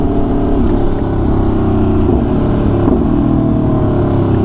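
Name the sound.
Aprilia RSV4 1100 Factory motorcycle engine starting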